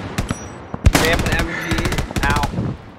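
Machine gun fire in a World War II–style video game, a loud, close burst of rapid shots that runs nearly the full three seconds, with a voice speaking over the gunfire.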